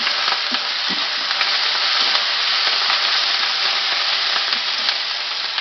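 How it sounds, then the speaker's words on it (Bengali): Spice paste with ground coriander paste fries loudly in a pan, a dense, even sizzle close up with light scraping as it is stirred, and no voices. "ধনে বাটা দিয়ে দিচ্ছি, মশলাটা ভালোভাবে কষিয়ে নেব।"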